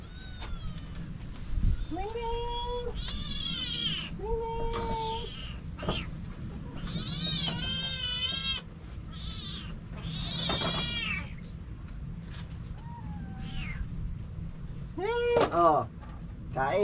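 Several hungry cats meow repeatedly while being fed sardines, their rising and falling cries overlapping over a steady background hum, with people talking nearby.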